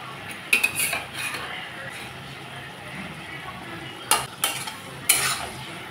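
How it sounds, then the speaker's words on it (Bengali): Spices frying with tomato, eggplant and potato in a pan, a utensil scraping and clinking against the metal in a few sharp bursts over a soft sizzle, close by. "এখন আমি মশলাটাকে কষিয়ে নেব।"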